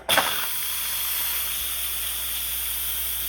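A pressure cooker's quick-release button lets out steam after cooking a gluten-free chicken noodle soup: a loud, steady hiss that bursts on abruptly and holds evenly throughout.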